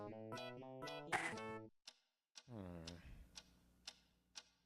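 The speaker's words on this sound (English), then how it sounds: "What is that mysterious ticking Noise." A clock's faint, evenly spaced ticking from a played video sounds alongside and after singing voices, with short silent gaps between phrases.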